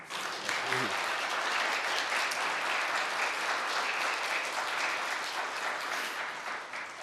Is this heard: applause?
yes